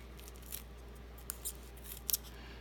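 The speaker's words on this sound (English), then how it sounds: "I probably would be much better if I was using my larger scissors." A few quick, crisp snips from small scissors cutting paper, scattered across a quiet background, with a couple of sharper snips near the end.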